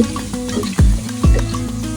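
Chopped tomato stirred and sautéed in a hot pan for bitter gourd dolma, a loud steady sizzle broken by two sweeping scrapes of the stirring spoon, close up with no talk.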